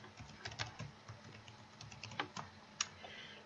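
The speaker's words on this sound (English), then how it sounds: "you can just type right over that" Quiet typing on a computer keyboard while editing text in a Photoshop template, with scattered soft key taps and a few louder strikes over faint low background hum.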